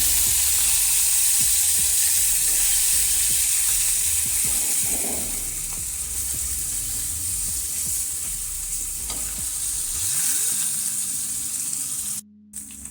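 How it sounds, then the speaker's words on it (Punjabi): Paneer cubes fry in ghee in a pan with a continuous close sizzle, broken by the occasional scrape and clink of stirring and turning. "ਪਨੀਰ ਨੂੰ ਅਸੀਂ ਇੰਨਾ ਹੀ ਫਰਾਈ ਕਰਨਾ ਸੀ ਆਪਾਂ ਜ਼ਿਆਦਾ ਨਹੀਂ ਇਹਨੂੰ ਫਰਾਈ ਕਰਾਂਗੇ"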